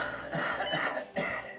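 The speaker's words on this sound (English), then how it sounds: "forced expiration. This is your huff or cough." Two or three short, breathy forced exhalations, huff coughs done to clear mucus from the lungs after surgery, close and fairly quiet.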